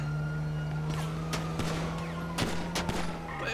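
Gunfire aimed at police in GTA role-play comes in scattered bursts of sharp shots over a steady background hum, fairly faint and without talk.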